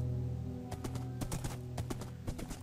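Horse hooves clip-clopping in Minecraft, a quick run of hollow, blocky hoofbeats over a low ambient hum, with no talking.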